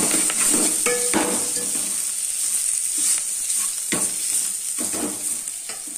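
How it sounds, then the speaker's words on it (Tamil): Crushed cumin, fennel powder, pepper, garlic, coriander and curry leaves sauté in a pan for a rasam, with continuous loud sizzling and occasional spoon stirring scrapes. "நம்ம இடித்து வச்சுக்கிட்டோம்ல ஜீரகம், சோம்பு பொடி, மிளகு, பூண்டு, கொத்தமல்லி, கருவேப்பிலை, இது எல்லாத்தையும் அதோட போட்டு அதையும் வதக்கிடலாம்."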